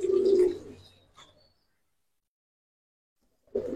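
Giribaz pigeons coo in a loft: a short burst of throaty cooing opens, fades into quiet, and another coo starts near the end, close and clear.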